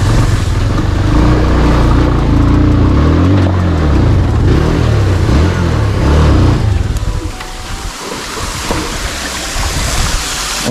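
A motorbike engine drones steadily during a ride on a rural road near a lake, loud and close with wind rush, easing briefly before picking up again.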